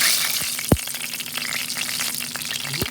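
A salmon steak frying in a pan, a close, continuous sizzle with a few sharp pops and faint stirring clicks.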